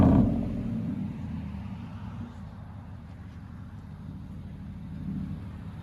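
Nissan/Infiniti car with a modified exhaust idling low and rumbling as it backs up, a deep steady engine drone that starts loud and settles, with a slight swell near the end.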